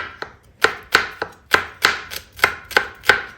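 A knife chops garlic on a cutting board in about ten crisp, evenly spaced close strikes, loud and alone with no talking.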